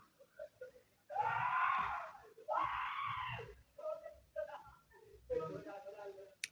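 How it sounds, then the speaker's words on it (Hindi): People shouting and playing on a street at night, loud distant screams and yells in bursts with quieter voices and pauses between. "कुछ लोग रास्ते पे ऐसे चिल्ला रहे हैं, नाटक, खेल कर रहे हैं"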